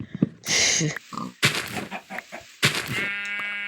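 Animal calls from a Minecraft farmyard chicken, a few short bursts of clucking and squawking close by, ending in a steady tonal note, with no talking over them.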